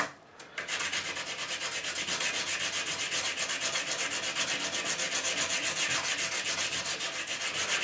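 A bone guitar nut is rubbed by hand across sandpaper in steady, rapid back-and-forth strokes, a close, continuous rasping scrape after a brief pause at the start.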